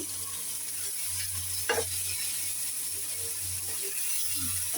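Spices frying in a pan with a splash of water and dried shrimp, stirred steadily while cooking for a taro stolon dish. A continuous close sizzle runs under soft scraping strokes, with one brief louder clack midway.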